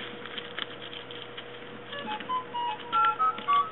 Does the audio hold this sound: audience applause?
no